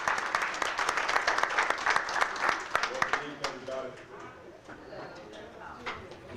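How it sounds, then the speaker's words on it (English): Audience applause at a public conversation in Selma, dense clapping for the first three seconds that thins and fades, with voices talking underneath as it dies away. "Please give him a round of applause"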